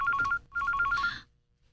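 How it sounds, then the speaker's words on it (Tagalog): Telephone ringing in a radio drama, two quick electronic trill bursts close and clear, followed by a short silence. "Ang telepono."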